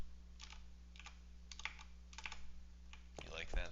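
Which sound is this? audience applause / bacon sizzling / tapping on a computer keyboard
tapping on a computer keyboard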